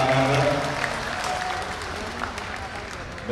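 A crowd at a political gathering applauds PSI chairman Kaesang Pangarep, a soft continuous wash of clapping heard somewhat far off beneath an announcer's amplified voice.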